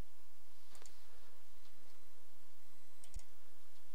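A computer mouse clicking a few times, quiet sharp clicks near the start and again near the end over a faint steady hum, no talk.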